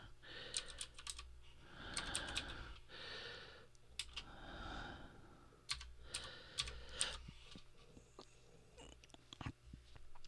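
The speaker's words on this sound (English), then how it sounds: "I'm going to go ahead and type delicate arch" Typing on a computer keyboard, a search entry for a landmark: short bursts of quiet, rapid key clicks come and go in a quiet room, with soft breathy sounds in between.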